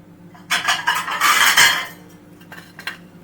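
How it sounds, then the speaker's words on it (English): Frozen seafood pieces for a seafood linguine with added pollock clatter onto a dish in a kitchen, a few bright clinks and scrapes of tableware over about three seconds, close and fairly loud, with no talk. "So I'll put them on a dish."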